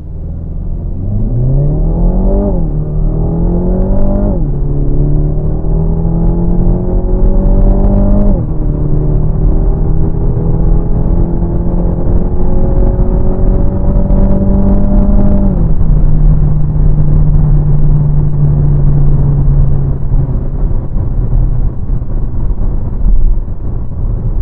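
A Renault Talisman with a 1.6 TCe engine and EDC7 automatic gearbox accelerates hard. Loud close engine drone climbs in pitch, drops at each automatic upshift, then climbs again through several gears, with no talking.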